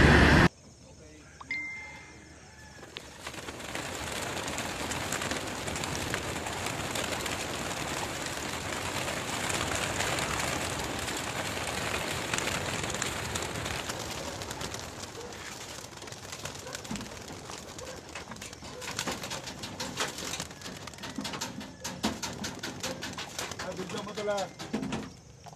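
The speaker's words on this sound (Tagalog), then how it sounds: "ito nga pala yung release ng mga ibon natin" Released racing pigeons cooing and fluttering outdoors, a steady broadband bird-and-wing wash lasting the whole stretch, with people talking faintly in the background.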